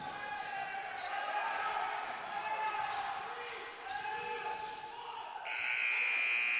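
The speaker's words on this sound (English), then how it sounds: "And at the buzzer, Wiley Hua able to hit one." A loud crowd murmurs over squeaking sneakers in a gym during a high school boys basketball game, then a harsh, sustained buzzer blares near the end of the third quarter.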